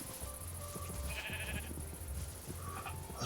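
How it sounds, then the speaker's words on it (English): Sheep bleating in Minecraft, a few soft game bleats rising over low background music and ambient tones, moderately near and fairly quiet, with no talking. "I'm only really bothered about these 2 sheep though"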